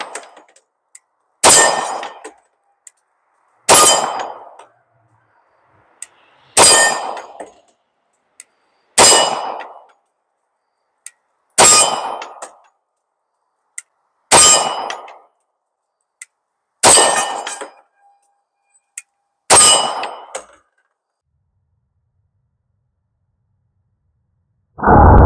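A Grand Power P40 10mm semi-automatic handgun with rotating barrel fires nine sharp, loud single shots spaced a few seconds apart in a steady rhythm outdoors, each with a brief echoing decay, then a last shot begins at the end.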